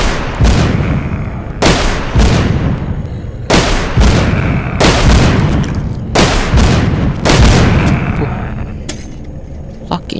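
Machine gun in a zombie video game, heavy booming bursts in several loud clusters separated by short gaps, with faint talk in between.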